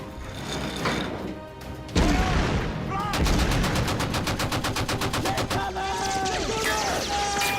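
Deck guns on a boat blast in a war action film, heavy explosive bangs and crashes leading into a long rapid machine-gun burst, loud and dense.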